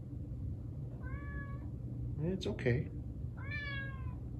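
A cat meows in short harmonic bursts, sounding angry, two distinct meows with a noisier vocal burst between them, close by over a steady low hum, while a person speaks softly nearby.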